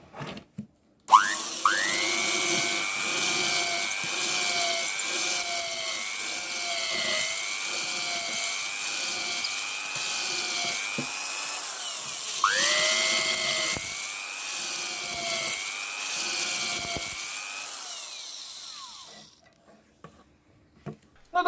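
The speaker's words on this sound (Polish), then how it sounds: "Zobaczmy, czy ta wiertarka wywierci przynajmniej jakiś otworek, na którym moglibyśmy w ceglanej ścianie powiesić" A small 1968 CEFANA PRCa6 electric drill bores into a brick wall with a concrete bit, a loud whining motor with a wavering pitch that drops and restarts once before cutting off, no voices.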